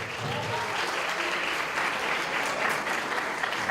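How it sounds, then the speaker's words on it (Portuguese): A room of students at a large math exam-prep class in Brazil bursts into sustained, even applause for a prize winner, the clapping crowd steady and fairly close throughout. "Palmas para Ana Clara, gente."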